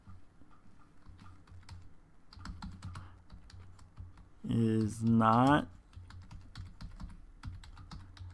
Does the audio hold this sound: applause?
no